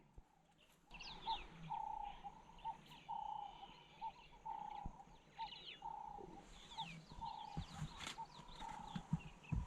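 Repeated bird calls ring out over the Serengeti grassland at early-morning sunrise, steady chirping phrases at mid distance with occasional other wild calls and light vehicle rumble beneath.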